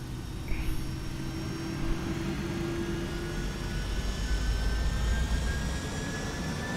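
Engines of a Boeing 757 in X-Plane 11 spool up toward takeoff power, a steady broad roar with rising whining tones that holds loud and even throughout.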